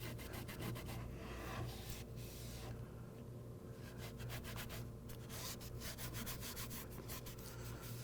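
Steady, close rasping and scraping of glue being removed from a wooden board, repeated short strokes continuing throughout without any talking.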